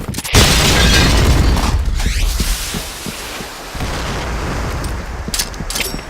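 A loud, close grenade blast in the shooter game Point Blank booms out and rumbles low, fades into a crackling tail, then gives way to a few quick sharp reports near the end.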